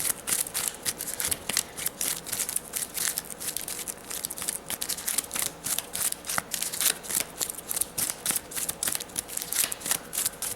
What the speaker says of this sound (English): I dropped one of these sleeved cards from shuffling